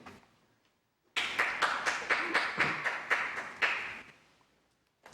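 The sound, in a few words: applause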